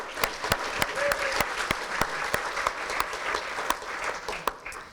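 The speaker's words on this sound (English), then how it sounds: "Can we have a round of applause, please?" A conference crowd gives a steady round of applause, with a few sharp, distinct claps standing out rhythmically above the dense clapping until it fades slightly at the end.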